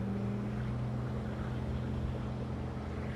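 A Centurion Ri257 wake surf boat cruises over water, its engine a steady, close low drone mixed with rushing water and wind noise throughout, with no one talking.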